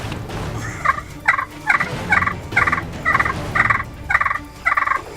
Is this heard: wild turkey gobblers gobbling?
yes